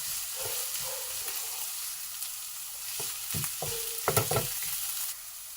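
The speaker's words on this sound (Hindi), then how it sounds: "स्लो स्लो पे हम ये प्याज को पकाएंगे इसमें।" Onions fry in a pan over a slow flame with a soft, even sizzle. A few sharper stirring scrapes cluster near the end. No one speaks.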